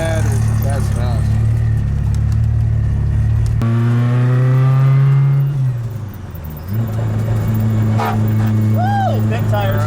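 A Whipple supercharged Honda S2000 racing at full throttle, its engine roaring loud and close, climbing in pitch, briefly dropping as it shifts, then pulling hard again, with excited voices talking over it.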